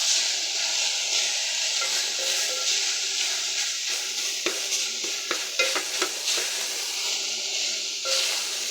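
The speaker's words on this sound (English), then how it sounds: "Just going to mix it all together." Minced meat for spaghetti bolognese is stirred in a hot pan, giving a steady sizzle with repeated scraping and clicking strokes of the spoon across the pan, close and alone.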